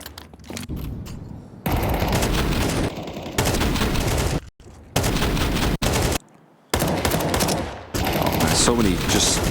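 Rapid rifle gunfire in a Counter-Strike esports match, bursts of automatic shots cutting in and out with short gaps between.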